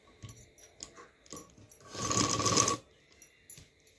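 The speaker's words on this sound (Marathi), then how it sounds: "तर आता मी शिलाई मारते." A sewing machine runs a single steady burst of just under a second, stitching around the neckline design of a heavy embroidered blouse, with quiet handling sounds before and after.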